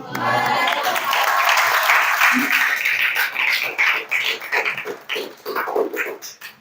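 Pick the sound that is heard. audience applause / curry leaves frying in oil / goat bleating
audience applause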